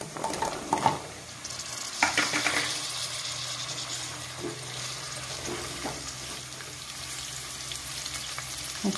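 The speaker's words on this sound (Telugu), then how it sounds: "కొంచెం అల్లం వెల్లుల్లి పేస్ట్, దంతాలు వచ్చిన పచ్చివాసన పోయేంత వరకు వేయించుకోవాలండి" Ginger garlic paste fries in a pan with curry leaves, a continuous moderate sizzle broken by clattering stirs and utensil scrapes early on, then settling into a softer steady crackle with occasional taps.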